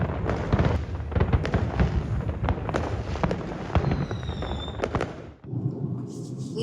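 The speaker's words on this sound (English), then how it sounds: "They wrapped up the night with fireworks, which was the perfect end to a full-on day" Fireworks burst at night at the end of a day out downtown near a dock, a dense run of loud crackling pops and sharp bangs over about five seconds, then a sudden drop to a quieter rumble with faint distant crackle.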